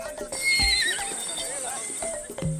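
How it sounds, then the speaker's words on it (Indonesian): Horses neigh and whinny loudly over clip-clopping hooves as two riders spur sacred horses at the opening of the Pasola ritual in Sumba, with crowd voices mixed in. "Dua kesatria memacu kuda Palawi, kuda milik Rato yang dikeramatkan."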